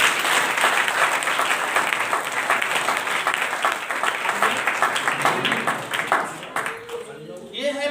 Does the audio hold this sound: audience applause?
yes